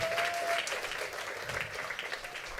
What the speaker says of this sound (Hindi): कम ऑन, तालियों को बजाएं और शुक्र करें उसका